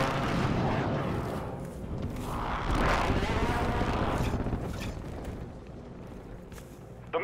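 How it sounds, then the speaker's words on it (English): Deep rolling explosions from a precision airstrike in the video game MW3 Ground War, a sustained loud rumble of blasts blending into battle noise. "Friendly precision airstrike inbound."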